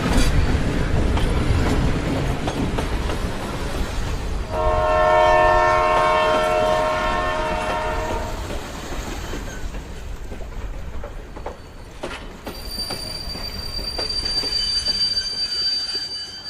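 A cartoon train runs onto a cursed bridge, its wheels squealing loudly and continuously with heavy rail rumble, while a long horn blast sounds midway and a thin high whine lingers near the end.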